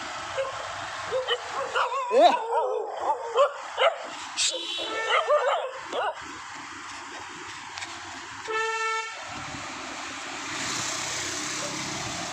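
Several dogs chase and bark and yip in a rapid, ragged chorus at a runner, followed by a short vehicle horn and a fading hum of traffic.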